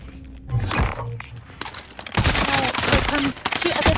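Close bursts of gunfire from the video game Call of Duty: Modern Warfare, scattered shots early then a dense, loud stretch of rapid firing, with players talking over the action.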